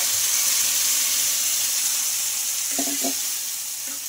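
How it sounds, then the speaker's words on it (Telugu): Ground chutney hits a hot tempering of spices in oil and sizzles loudly and steadily up close. A few soft clinks of a spoon against the pan sound near the end as the hiss gradually eases. "ముందుగానే గ్రైండ్ చేసి పెట్టుకున్న ఈ చట్నీ కూడా వేసేసుకోవాలి ఈ పోపులో"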